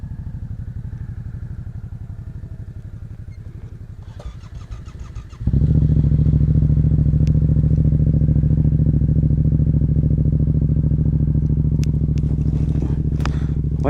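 A Ducati motorcycle cranks with a fast, rhythmic starter whir that fails to catch. Then the engine settles into a loud, steady idle, with a few faint clicks toward the end.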